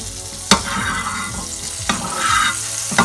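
Butter sizzles steadily in a pan over medium heat, a continuous close frying hiss broken by three sharp utensil knocks against the pan, with no talking.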